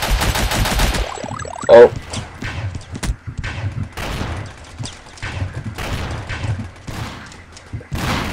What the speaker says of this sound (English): I'm with a plasma rifle, I guess this is.